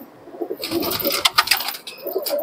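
Pigeons coo in soft, low, throaty bursts, close by, with a brief scuffle or flutter of movement in the middle and no voices.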